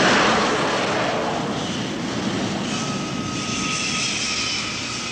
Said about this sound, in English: With the engine winding down, Ron's job is done.